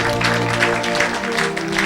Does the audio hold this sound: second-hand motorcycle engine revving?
no